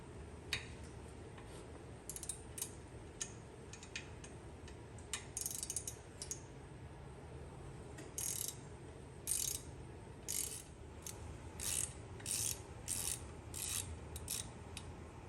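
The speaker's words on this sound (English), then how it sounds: "you want to remove the brake pedal mounting bolt, and this I'm going to be using. This is a T27 torque wrench." A T27 Torx wrench works on the brake pedal mounting bolt of a Harley Low Rider ST, making faint, intermittent metallic ratcheting clicks in short bursts against a quiet hiss, with no one speaking.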